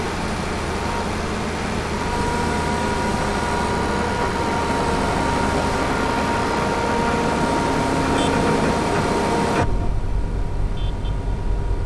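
Tractor engine in Farming Simulator 22, a steady droning hum with tonal whine held evenly for about ten seconds before abruptly cutting to a quieter low rumble.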